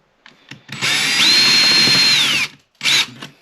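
A power drill whines up to speed and bores a hole for a guitar wall mount, running loud and steady for well over a second, then gives a short second burst after a pause.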